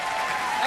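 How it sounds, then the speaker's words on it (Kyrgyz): An audience at an awards ceremony for a literary and arts competition claps in a dense, steady wash of applause from a large hall, loud and continuous over this short moment. "Бир сүрөп кол чаап коелу."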